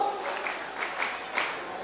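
A small group claps in response to a spoken command, producing a few soft, separated bursts of hand claps at modest distance, with faint voices in the room.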